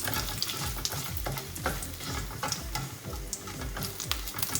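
Cumin seeds and three red chilies sizzle and crackle steadily in about two tablespoons of hot oil, with soft stirring scrapes and little pops throughout, close and continuous.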